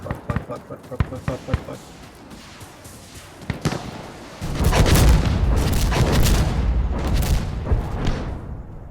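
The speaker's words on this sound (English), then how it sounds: "Oh shit, artillery." Artillery shells exploding in the shooter game Insurgency Sandstorm: sharp impacts at first, then a sustained heavy rumble of blasts and debris from about the midpoint on, with a voice talking over the barrage.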